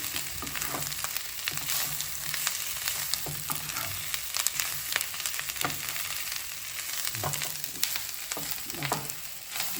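Beef frying with garlic and ginger in a pan until dark, a continuous dense sizzle with frequent scraping stirs of a spatula, heard close and alone.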